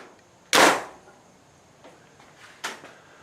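An arrow loosed from an Elite EnVision compound bow during setup and tuning gives one sharp, loud snap up close, followed by a fainter second crack a couple of seconds later.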